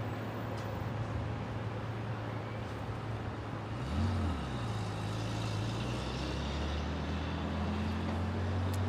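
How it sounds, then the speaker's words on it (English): An old Porsche passing on the road below an airport viewpoint in Brisbane, a distant engine swelling briefly in the middle with a rising-and-falling drone over steady traffic hum, faint and without talk. "Oh, an old Porsche down there."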